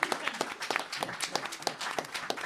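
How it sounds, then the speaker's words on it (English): Audience clapping at a talk event, a light scattering of claps from a smallish crowd with a distinct, fairly even rhythm, heard up close and brief. "organized by my comrade Nick, who deserves a round of applause for"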